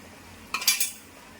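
A spoon scraping and stirring masala frying in a pan for mushroom gravy, one short burst of metallic clatter and a soft sizzle, close, with quiet around it.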